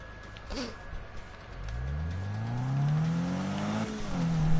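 A racing car engine revs up and climbs in pitch through the gears, loud and close, with a steady electronic tone beneath it.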